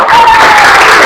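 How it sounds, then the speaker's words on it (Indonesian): Classroom group applause, a brief burst of many hands clapping together in a dense, loud wash with no talking. "Tepuk tangan buat semuanya ya."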